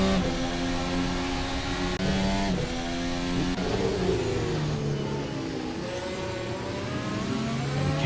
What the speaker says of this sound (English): Let's check out Worley in this purple Prism vehicle